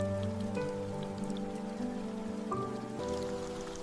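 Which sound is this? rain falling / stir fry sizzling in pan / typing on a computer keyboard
rain falling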